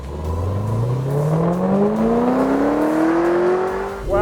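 A 2017 HSV GTSR W1 with a 4.4-litre twin-turbo V8 accelerating hard on a race track, one loud continuous rising engine note climbing steadily through a gear before a brief dip at the shift.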